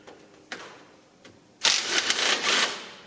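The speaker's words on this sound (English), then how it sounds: "undo these two long bolts here" Two long bolts undone on a John Deere 2030 tractor gear shift cover: a few sharp metallic clicks, then a burst of rapid ratcheting wrench clicks, close and fairly loud, with no voices.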